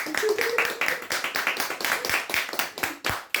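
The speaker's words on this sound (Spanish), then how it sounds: "Bueno, vamos a aplaudir" A few people clap close to the mic during an interview with a writer, giving distinct, uneven claps that fade out near the end.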